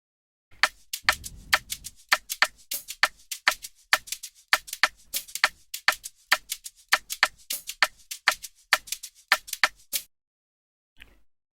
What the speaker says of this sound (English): when the two shakers are being layered together, it gives the shaker loop more energy